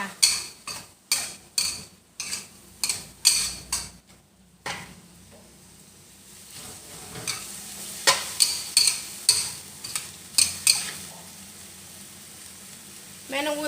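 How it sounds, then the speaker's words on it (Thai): Minced pork stir-fried with oyster sauce and fish sauce in a pan for a Thai basil dish, with rapid rhythmic spatula clacks against the pan, then a softer sizzle and more spaced scraping strokes, loud and close. "น้ำมันหอยค่ะ พัดให้เข้ากันจ้า"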